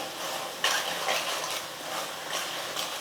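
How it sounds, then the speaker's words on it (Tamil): Masala with tomatoes, turmeric and salt sautéing in a pan, a steady soft sizzle broken by a few brief scraping stirs of a spoon, fairly close and with no one speaking. "இந்த மசாலா வந்து நல்லா ஒரு 2-3 நிமிஷத்துக்கு வந்து நல்லா வதக்கிக்கலாம்."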